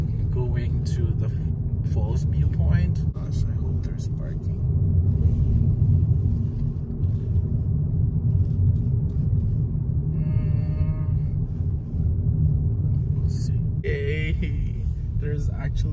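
A steady low engine and road rumble fills a car's interior throughout, heard from inside while driving through Banff National Park in the Canadian Rockies toward the Bow Falls viewpoint, with faint higher sounds now and then.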